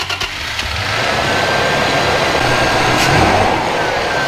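An International pickup truck engine cranks briefly, catches and settles into a steady rumbling run close by, loud and continuous after the first half second.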